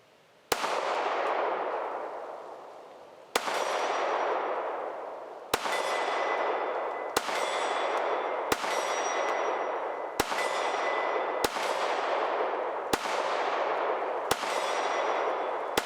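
A rifle with a ported barrel, lubricated with canola oil, fires shot after shot through a magazine: nine loud, sharp reports with ringing tails, spaced about one to three seconds apart, near and clear, with no talk.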